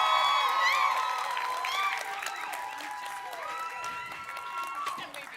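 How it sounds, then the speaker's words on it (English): Audience applause at a SMPTE virtual production showcase, a sustained wash of clapping from a crowd that begins loud and eases slightly, with tonal music or voices layered over it. "please give a loud applause to Michelle Bernard from Lambda."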